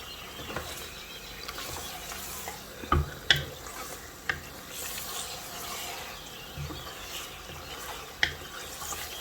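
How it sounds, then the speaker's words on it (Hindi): Chunks of beef shank with large bone pieces being stirred in a cooking pot, giving a steady wet scraping and sizzling churn with a few sharp clanks of the spoon against the metal, close by and with no talk. "हम इसको मिक्स करेंगे।"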